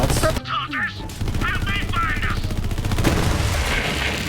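In the Borderlands 3 video game, an EM-P5 gun fires in a continuous rapid stream, loud and close, mixed with electronic impact effects, while someone talks over it.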